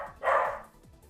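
A pet dog gives a single short bark, fairly close and moderately loud, with no talk over it.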